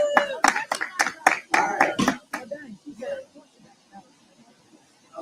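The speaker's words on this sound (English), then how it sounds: "Yeah, give him a round of applause." A handful of people at a teen summit event give a short burst of about eight loud, close claps, which stop after two seconds as voices take over.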